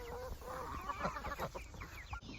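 Five-week-old meat chickens in a flock give soft, overlapping clucks and chirps, a quiet, busy murmur close by.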